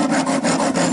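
Hand file rasping back and forth on metal while repairing an old UAZ, the file now hot from use; steady loud scraping strokes in quick rhythm, close and alone.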